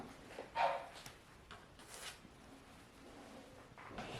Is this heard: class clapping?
no